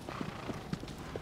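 Horse hooves clip-clop in a quick, faint rhythm as a horse gallops in the video game Shadow of the Colossus, with no talking over it.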